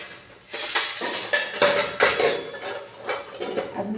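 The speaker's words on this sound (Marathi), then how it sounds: "मी रात्रीची भांडी घासते" Last night's dishes, pots and pans are scrubbed and washed in a home kitchen, with repeated clanks and clinks of metal utensils knocking together at close range.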